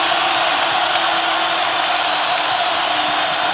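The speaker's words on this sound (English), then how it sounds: "And here comes the crowd at Allen." A packed basketball crowd roars at Allen Fieldhouse during Kansas State at Kansas, a loud, sustained wall of cheering and whooping that holds steady throughout without a break.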